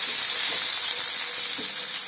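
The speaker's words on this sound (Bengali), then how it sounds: "আমি প্রথমে আলুগুলো দিয়ে দিচ্ছি। আলুগুলো সামান্য একটু ভেজে নেব।" Potatoes fry in hot mustard oil in a pan with a loud, steady, close sizzle and hiss that runs without a break and with no speech.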